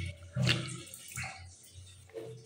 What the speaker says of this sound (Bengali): আমি একটু মুখটা ধুই।